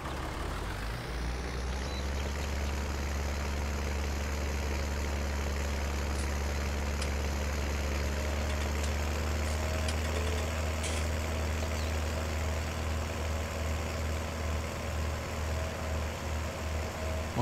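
A tractor engine idles in Farming Simulator 19, a steady low drone that runs unbroken from start to finish with a faint mechanical hum above it.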